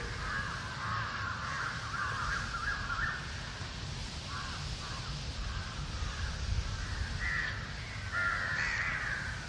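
Crows caw repeatedly through the evening air, their harsh calls rising over a steady background murmur, with bursts coming at irregular intervals and growing louder near the end.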